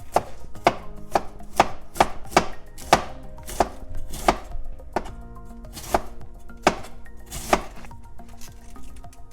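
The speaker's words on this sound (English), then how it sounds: "And you can start to slice it." Knife slicing through cabbage on a cutting board, a steady series of crisp sharp chops, close and evenly spaced about every half second, clean with no talking.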